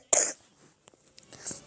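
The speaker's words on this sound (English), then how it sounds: "Cough, cough." A single sharp cough from someone sitting on a couch at home, close and fairly loud, followed by faint rustles and soft breathy sounds.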